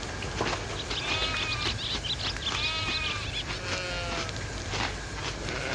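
Cartoon sheep bleating on a farm in a children's game, several wavering bleats in a row over a steady busy background, with bird-like chirps mixed in.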